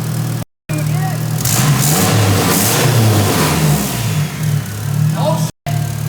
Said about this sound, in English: sounds like a turbo Supra, like a big turbo